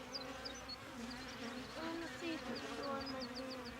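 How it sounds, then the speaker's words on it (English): Thousands of honey bee workers swarm an opened hive with its top removed, making a steady, dense, faint buzz. Soft voices murmur in the background. "Kids are astounded to see thousands of bees when the top of the hive is removed."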